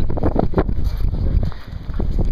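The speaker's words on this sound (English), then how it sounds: "It is pretty windy up here." Strong wind roars across the Mount Washington summit, a loud continuous gusting rumble buffeting the microphone throughout with no pause.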